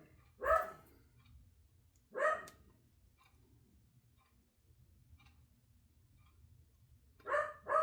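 Indoors, a dog lets out about four sharp barks at shadows: two spaced apart early, then a quick pair near the end, with soft ticking and quiet room noise in the gaps.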